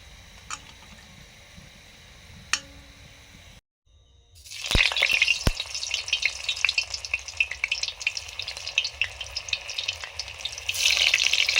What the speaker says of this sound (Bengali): বেরেস্তা ভাজা লাস্ট চলছে